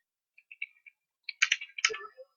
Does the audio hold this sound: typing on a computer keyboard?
yes